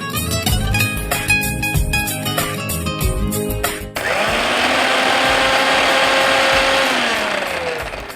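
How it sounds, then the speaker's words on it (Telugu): A kitchen mixer grinder coarsely grinds ginger pieces, green chillies and cumin with a loud, close motor whir. It runs in choppy bursts, then settles into one steady, continuous grind whose pitch drifts slightly. "ఇవన్నీ కచ్చాపచ్చగా మిక్సీ పట్టుకోవాలి."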